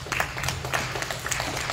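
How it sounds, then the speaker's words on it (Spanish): Audience at a cheese sandwich contest in Gran Canaria giving steady, moderately distant applause, a continuous patter of many hands with sharper individual claps standing out, no voices on top. "Un aplauso fuerte para él."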